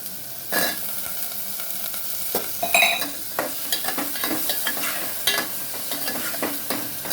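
Onions and potato chunks frying in a pan, a steady close sizzle broken by repeated scraping stirs and a few utensil knocks, with no voices, for a potato and drumstick curry.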